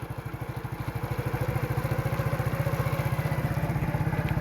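A motorcycle engine runs steadily while the bike is ridden outdoors, a loud, close, rapid low thumping pulse that holds an even rhythm throughout, with no voices.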